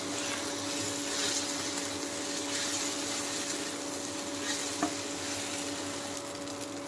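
Pasta being stirred in a frying pan for an Indian-style masala pasta, a steady low sizzle and scraping stir running evenly throughout with one brief clink near the end, no talking.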